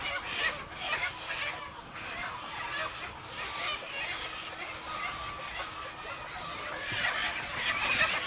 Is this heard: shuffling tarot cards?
no